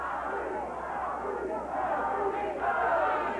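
Wrestling crowd at a 1994 USWA hair match between Brian Christopher and Doug Gilbert chants taunts in a loud, rhythmic roar that swells toward the end, with voices rising over the arena noise.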